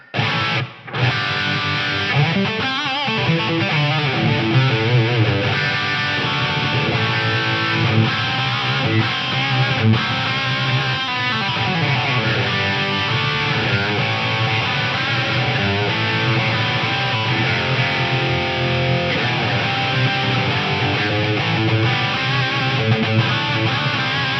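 Dense sustained, distorted-sounding instrumental tones run through a Roland SRV-2000 room reverb of about 1.3 seconds with a little pre-delay, filling the space continuously after a short opening gap.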